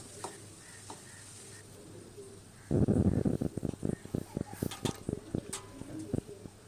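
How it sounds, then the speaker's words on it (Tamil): Eggplant sautés in oil with turmeric, tomato and grated coconut for a traditional oil-based kuzhambu: a burst of sizzling, then a run of quick spoon scrapes and stirs against the pan, fairly close and clear. "இது கூட மஞ்சத்தூள் ஆட் பண்ணி நல்லா வணக்கிக்கலாம்"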